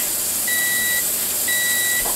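Timer beeping at the end of pressure canning meat, with two evenly spaced, sustained electronic tones about a second apart, clear over a steady background hiss.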